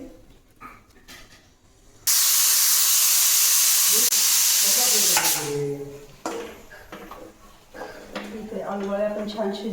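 A loud, sharp hiss of steam bursts out and holds for a few seconds, then cuts off, with voices talking before and after.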